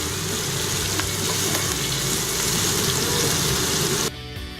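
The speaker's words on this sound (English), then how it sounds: "stir fry the sausages until they're nice and brown" Turkey sausages stir-fry in a pan for a jambalaya, a steady close sizzle with stirring scrapes that cuts off abruptly near the end.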